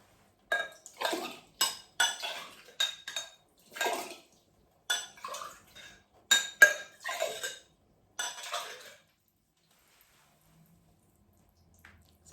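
Fruit soaking in a bowl of Kangen water is jiggled about, giving a series of short, close clinks and sloshes as the bowl and fruit knock together in irregular bursts, then fading to near silence.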